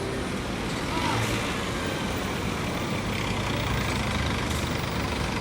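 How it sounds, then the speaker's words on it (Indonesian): Buses and trucks rumble at a busy bus terminal on a morning of arrivals, a steady broadband engine and traffic drone with idling diesel motors nearby and no clear individual pass-by. "bus-bus yang masuk ke terminal Albar hari ini ya"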